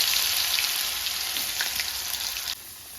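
Chopped potatoes go into hot oil tempered with five-spice (panch phoron), giving a steady, close broadband sizzle and crackle that drops slightly near the end, with no talking.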